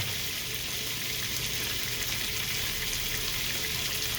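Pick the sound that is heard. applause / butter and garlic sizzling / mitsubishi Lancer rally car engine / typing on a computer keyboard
butter and garlic sizzling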